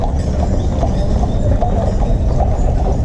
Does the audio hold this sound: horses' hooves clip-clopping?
yes